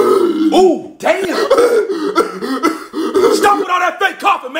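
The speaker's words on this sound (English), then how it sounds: "Stop with all that fake coughing, man." Several people cough and make harsh throat noises over one another in loud, rapid bursts, mixed with talk and shouting.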